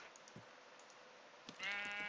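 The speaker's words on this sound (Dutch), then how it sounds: "Hier ben ik een schaap" Sheep bleating in the Minecraft video game: a single close, clear bleat rises near the end after a faint steady background hiss.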